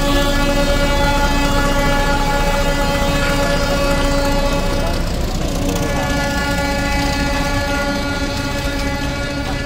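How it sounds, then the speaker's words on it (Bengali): A train of empty coaches passes through Santahar railway station, its loud, steady rumble and clatter filling the whole stretch with a sustained horn-like tone riding on top, close by and continuous. "সব ফাঁকা বগি যাচ্ছে"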